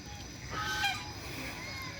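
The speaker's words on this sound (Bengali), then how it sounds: "সুন্দর সুন্দর হাঁস, রাজহাঁস" Domestic geese honk in a short burst of nasal calls at Hatirjheel lake in Dhaka, moderately close against a steady outdoor wash of traffic and ambient noise.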